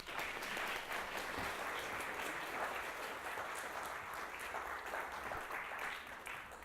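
Steady applause from an audience in a lecture hall greets a speaker coming to the stage, a dense, even patter of many hands that holds for several seconds, heard from a moderate distance.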